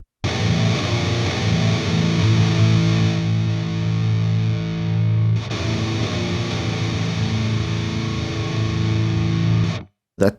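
A heavily distorted electric guitar power chord rings out loud and sustained, then is struck again midway and held before cutting off abruptly.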